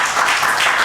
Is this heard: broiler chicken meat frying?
no